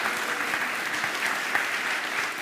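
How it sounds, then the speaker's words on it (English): A crowd applauds steadily, a dense, even wash of clapping that keeps going throughout. "a big round of applause for her as well"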